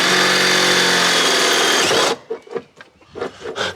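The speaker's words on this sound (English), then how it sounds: "I'm just going to drill all the way through" A power drill whines loudly and steadily as it bites through a steel box section for off-road car rock sliders, then stops, followed by clattering handling noises.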